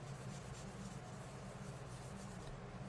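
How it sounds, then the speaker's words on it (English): Eraser rubbing across a board to wipe off writing, a steady close scrubbing that runs continuously without pause for the whole stretch, with no voices. "I'm going to erase this."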